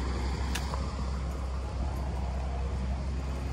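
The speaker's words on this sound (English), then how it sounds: "Sorry for the noise, there's a pump going right there." A pump runs right nearby outdoors, a steady low droning rumble that fills the whole stretch, with a faint brief click or two on top.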